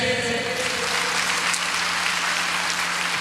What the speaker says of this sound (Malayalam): ഓക്കെ, ഒന്ന് കൈയടിച്ചേ.